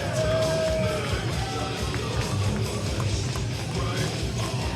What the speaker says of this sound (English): Seems like a possible mixed reaction from this Butler crowd